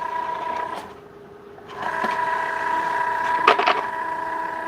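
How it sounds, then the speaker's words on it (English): A Cricut Joy Xtra cutting machine feeds material in without a mat, giving a steady whirring motor hum with a pause, then resuming with a few sharp clicks and clatters, close and moderately quiet. "we're just going to feed it into our machine, and it's going to pull it in and make sure we have enough material"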